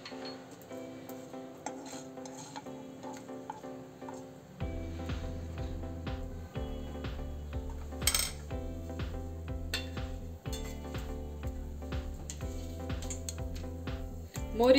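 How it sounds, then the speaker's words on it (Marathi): Mustard seeds crackling in about two spoonfuls of hot oil in a kadhai over medium heat: scattered sharp pops and ticks over a steady low hum, with no talking. "मोहरी छान तडतडू द्यायची आहे"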